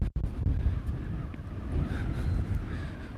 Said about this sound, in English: Yeah, very, very windy today.